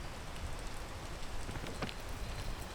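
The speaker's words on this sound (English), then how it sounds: "I shouldn't be doing this when it's raining" Rain falling in the video game Peak, a faint, steady hiss of rainfall with no voices.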